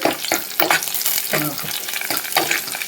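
Onion and mango frying in coconut oil in a pan, a dense steady sizzle with repeated scraping stirs in a loose rhythm, close and fairly loud throughout.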